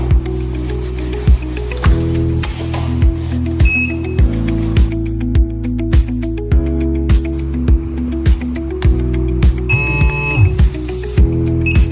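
A BXH-3001 dual alarm system sounds loudly and continuously, a harsh buzzing tone punctuated by regular sharp pulses throughout.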